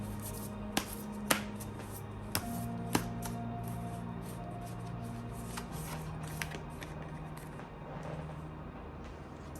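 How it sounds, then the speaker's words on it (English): Tarot cards being shuffled by hand, heard as a few sharp riffle snaps and soft papery flutters over a low, steady hum in a quiet room. "Let me shuffle again."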